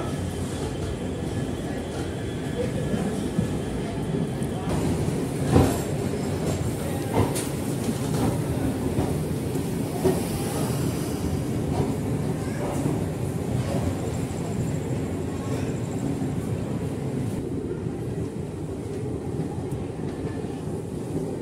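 Steady rumble of a passenger train on the Bangalore to Hyderabad route, running continuously near Gundakal Junction with a low rolling roar, occasional clanks and a sharp knock around the middle, no voices.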